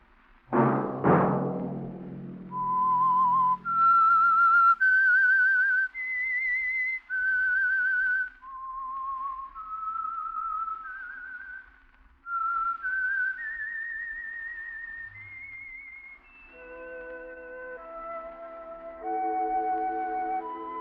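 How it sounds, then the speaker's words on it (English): A single person whistles a slow, clear melody alone, rising and falling through sustained notes, after an opening musical sting. "Let that whistle be your signal for the Signal Oil program"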